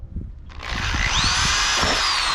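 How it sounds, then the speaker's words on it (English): Power drill boring holes into a truck cab while fitting a drop visor on a cabover truck; the motor whines steadily and loudly, rising in pitch after a brief start with a few clunks beforehand. "we'll mark the cab and start drilling some holes"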